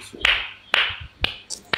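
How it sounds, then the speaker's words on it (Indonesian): A few separate, sharp hand claps ring out at roughly half-second intervals in a room, fairly close and distinct rather than a dense round of applause, with faint voices around them. "Tepuk tangan dulu."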